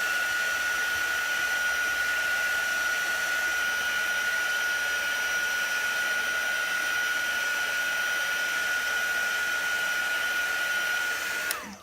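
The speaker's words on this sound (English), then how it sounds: "Let's dry this real good." A hair dryer blows steadily and loudly up close, drying chalk paste and glitter on a board, with a constant whine that runs unbroken for several seconds before switching off at the end.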